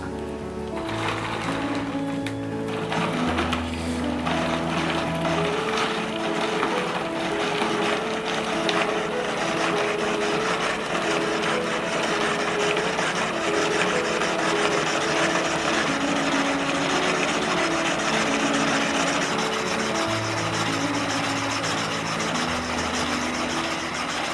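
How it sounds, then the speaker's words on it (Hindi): A Wonderchef Turbo dual-speed food processor chops onions in its fourth, high-speed gear, giving a steady, loud motor whir that holds unbroken for the whole stretch, with a tonal hum shifting slightly near the start and end. "ये फर्स्ट गियर से fourth gear 4 times high speed है और ये फाइनली चॉप करेगा।"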